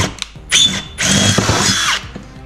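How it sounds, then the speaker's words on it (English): A power drill bores holes during a custom radio mount build for a Yamaha YXZ side-by-side, running in two short whining bursts, the second longer, close and loud. "we're gonna drill these through."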